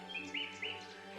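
Birds chirp in a forest scene of the point-and-click game Beyond The Edge Of Owlsgard, a few short, clear tweets over a steady ambient hum, with no talking.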